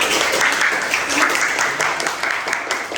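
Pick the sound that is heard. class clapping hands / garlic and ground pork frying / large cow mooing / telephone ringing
class clapping hands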